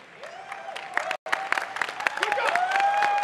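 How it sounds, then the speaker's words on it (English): Scattered applause and cheering from an esports crowd at a Counter-Strike semi-final on Overpass, IEM Dallas 2023, rising steadily over a few seconds with a brief dropout near the middle. "It's a golf clap."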